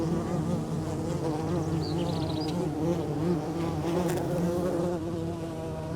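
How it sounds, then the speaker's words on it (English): Steady buzzing of Copolicana bees close by in the Atacama, a dense continuous drone with a few higher whines of individual insects passing near. "The Copolicana bees have hairy, colorful bodies and constantly buzz around their tiny colony."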